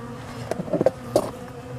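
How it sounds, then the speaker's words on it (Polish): A few short honeybee buzzes rise and fade over a low steady hum at a hive, with a couple of brief louder bursts as bees fly close by. "Jest dużo czarnych pszczół"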